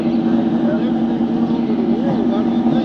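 A car engine idling close by outside a courthouse, a loud steady low hum with a constant drone, under people talking.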